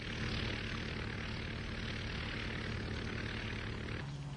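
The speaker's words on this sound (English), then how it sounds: "And the plane takes off, or at least it tries to." A propeller airplane from 1939 newsreel footage revs its engine as it attempts to take off, giving a steady, loud, continuous drone throughout, with a slight shift in pitch near the end.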